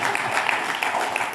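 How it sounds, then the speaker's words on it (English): Studio audience applauding a guest congressman, a brief dense wash of clapping heard close and steady. "please give him another round of applause to welcome him"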